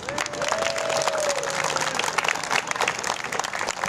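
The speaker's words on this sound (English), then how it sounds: "So let's hear it for Ed and Tommy." Crowd claps steadily at a museum's 50th anniversary fiesta, a dense, moderately loud round of applause with a brief whistle near the start.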